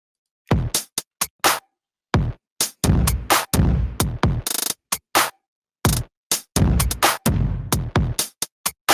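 Punchy, gritty drums play a driving beat with heavy kick and snare hits, loud and close, with a brief pause between phrases.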